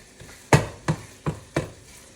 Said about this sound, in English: So we'll get this fried up here, and then we'll start adding our onions in here in a second.